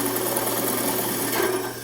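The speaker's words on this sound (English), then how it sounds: "we're going to just drill that out" A drill bores a hole through wood with a steady, close, rasping whir that holds even throughout and tapers slightly at the end.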